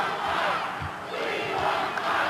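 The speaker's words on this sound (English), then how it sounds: "Crowd chanting about Spike Huber to Tully Blanchard." Wrestling arena crowd at an NWA St. Louis event chanting loudly and continuously, a dense roar of many voices with rhythmic swells, no announcer speech over it.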